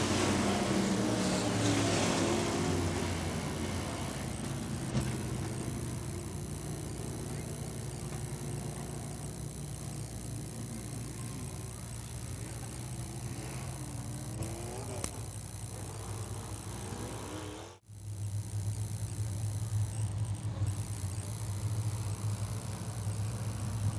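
Race cars running at Wagner Speedway during a B-Modified and Living Legends event, a steady engine roar continuing throughout at moderate distance, with a brief dropout late on.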